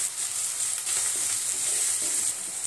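Chopped onion with salt fries in a pan, giving a steady, close sizzle that holds at an even level throughout.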